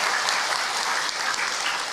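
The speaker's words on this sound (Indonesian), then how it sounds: "Tepuk tangan Ibu untuk Ahilman." An audience at an Islamic sermon applauds loudly and steadily, a dense wash of clapping that holds for the whole stretch.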